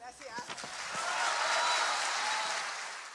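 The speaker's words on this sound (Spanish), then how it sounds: "Así que a Claudia la abuchean y a Xóchitl le aplauden." An audience applauds for a presidential candidate at a public event, a dense wash of clapping that swells and holds through most of the stretch after some brief talk at the start.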